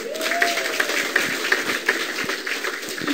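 Audience at a marketing plan presentation claps in a sustained, steady patter of many hands, with a faint tone sliding briefly underneath.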